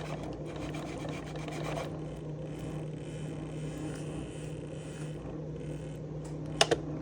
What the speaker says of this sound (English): Maybe if I scoop it around a little first,